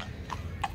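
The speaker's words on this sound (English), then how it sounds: "有 horse 啊，见到 horse 啊" A horse's hooves clip-clop in two distinct strikes, the second followed by a short whinny, on the grounds of Ham House estate in Richmond, London; moderately close and without talk.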